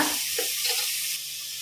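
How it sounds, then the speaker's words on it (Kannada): Onions frying in a pressure cooker, a steady soft sizzle with faint stirring scrapes, close and continuous without any voices. "ಈರುಳ್ಳಿ ಒಳ್ಳೆ ಫ್ರೈ ಆಗಬೇಕು"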